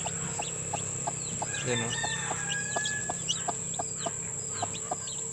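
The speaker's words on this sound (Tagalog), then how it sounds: "Meron na yung sisiw" Hens cluck close by alongside the thin peeping of newly hatched chicks, with a rooster crowing in the background; the calls repeat in short, regular bursts over a steady farmyard hum while someone speaks briefly.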